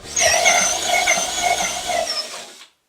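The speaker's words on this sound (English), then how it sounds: "I'm going to go ahead and take this drill bit, and then I'm going to work the drill around it" A handheld power drill with a 1/4-inch bit whines steadily as it is worked around a hole in a wooden cornhole board leg, holding a high buzzing pitch with slight wavering before cutting off abruptly.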